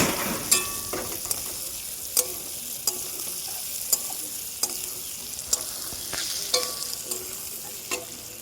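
A spoon stirs chili powder and spices through amla in a hot pan, with regular scraping strokes about once a second over a continuous close sizzle and no talking.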